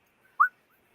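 A person gives a single short whistle imitating a call, rising in pitch and clear against near silence.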